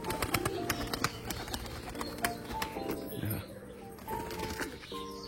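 Pigeons in a home flock coo softly and intermittently, close by, among scattered sharp clicks and faint background voices.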